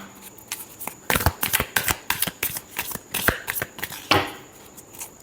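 A deck of tarot cards is shuffled by hand close up, a series of crisp riffling and flicking bursts with short pauses between them.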